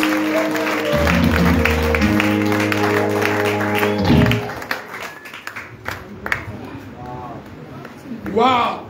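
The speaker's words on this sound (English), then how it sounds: "Clap for Jesus!" A church congregation at a launch service breaks into applause and cheering, a loud crowd roar that thins into scattered claps while music plays and a voice speaks over it.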